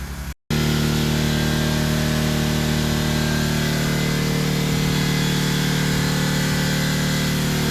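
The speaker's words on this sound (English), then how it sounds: "Sean got the generator going and we have cooling and we have a TV." A generator runs steadily in a tent garage, a loud constant droning hum with strong low harmonics that starts abruptly after a brief gap and holds unchanged to the end.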